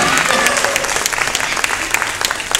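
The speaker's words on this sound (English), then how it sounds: "Yeah, nice round of applause." An audience breaks into applause at a speaker supper, with dense, sustained clapping close by and a few voices mixed in under it.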